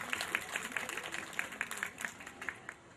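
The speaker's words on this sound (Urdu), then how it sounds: "لائبریرینز کے لیے تالیاں." An audience at a mushaira poetry gathering and dinner claps together. The rhythmic, fairly even hand claps sound somewhat distant and faint and taper off toward the end.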